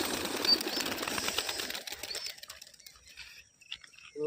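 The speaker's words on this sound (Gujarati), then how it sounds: "તો જોઈ શકો છો કબૂતર ઉડી છે" Pigeon taking off, a fluttering rush of wing flaps loudest at the start and then fading away as the bird flies off, outdoors, with no talking.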